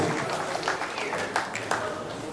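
An audience applauds contest laureates at a Carpathian Cup event, continuous dense clapping filling the hall with a few louder sharp claps standing out near the end.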